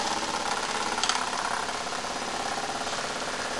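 A Jensen model toy steam engine with a roughly 3-inch flywheel runs under power, giving a steady, fast, even mechanical chuffing and whirring that continues without a break and without any talk.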